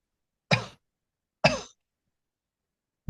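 A storyteller performs two short coughs, evenly spaced about a second apart, close and clear against silence, a voice imitating a child coughing.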